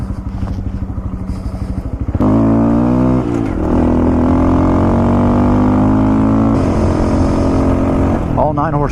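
A Honda Grom motorcycle on a back road revs hard and accelerates through the gears, its loud, close engine note climbing steadily with brief dips at shifts.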